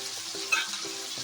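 Tomato, dried red chillies and coriander sizzle briefly in a pan for a mint chutney, a quiet, close hiss with a soft stirring scrape.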